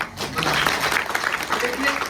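Audience applause at a career and Youth day college event in Kariri-Todabhim, a steady roomful of clapping running throughout with some voices mixed in.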